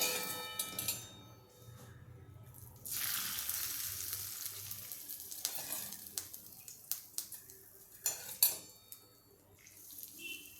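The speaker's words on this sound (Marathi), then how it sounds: "फोडणी घातली जाते" Hot tempering is poured onto khichdi and bursts into a loud, hissing sizzle that slowly settles, with clinks and knocks of utensils and dishes around it.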